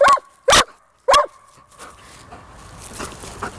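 A dog on a walk gives three sharp, loud barks close by, evenly spaced about half a second apart, followed by quieter outdoor background.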